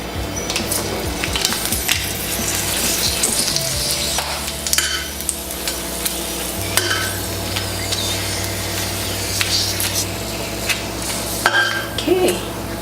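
Very spicy peppers frying in a pan for tortitas de camarón, a steady dense sizzle with occasional scrapes and clinks of a utensil stirring against the pan, continuous throughout with no one talking.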